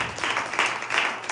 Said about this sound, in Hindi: आइए तालियां बजाएंगे यूसुफ के लिए